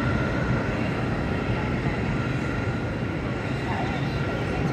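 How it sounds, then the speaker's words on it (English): Broad, steady roar of an airplane taking off at a huge airport, heard from outside at a distance, with a constant wind-like rumble and no break throughout. "It's plane taking off."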